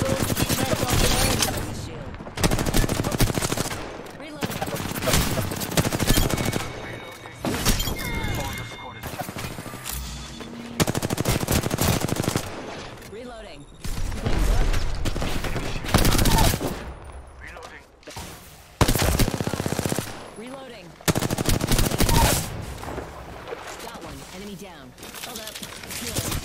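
Gunfire in the battle-royale game Apex Legends, repeated loud bursts of automatic shots separated by short pauses across the stretch, with players talking over and between the volleys.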